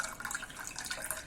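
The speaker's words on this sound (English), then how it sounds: "Pour it in the glass." Homemade tulsi green tea poured into a glass, a quiet, brief, steady trickle of liquid.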